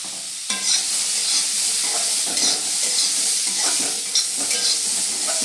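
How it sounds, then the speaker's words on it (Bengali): Green peas being stirred and fried in a pan for vegetable dal, a constant loud sizzle close by with periodic scraping strokes of a spatula roughly every second. "দিয়ে এটা আমি নেড়ে ছেড়ে ভালোভাবে ভেজে নেব"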